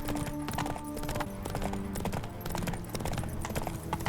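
A horse trots in The Witcher 3: Blood and Wine, its hooves a brisk, close, even clip-clop running through the whole stretch over soft game ambience.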